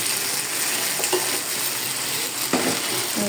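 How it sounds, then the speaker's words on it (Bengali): Potatoes sizzling and being stirred in a pan in a home kitchen before fish is added, a steady close frying hiss with a few soft scraping stirs, no voices. "আমি আলু দিয়ে মানে এটাও একটু কষাই নিলাম, তারপরে মাছটা দিব"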